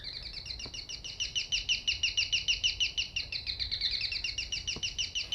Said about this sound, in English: a doorbell was the bird sound